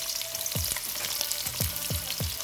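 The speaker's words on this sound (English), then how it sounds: "Here I have 5 tablespoons oil preheated. I'm going to add my onion and garlic" Onion and garlic hit preheated oil and fry, a dense close sizzle with several sharp stirring scrapes or clinks in a quick irregular rhythm.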